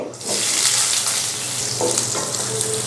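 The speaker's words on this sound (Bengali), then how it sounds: "প্রথমে আমি প্যানে দিয়ে দিব পেঁয়াজ কুচি" Chopped onion sizzling and frying in a hot pan, a loud steady crackle that continues without a break.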